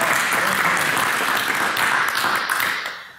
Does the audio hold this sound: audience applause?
yes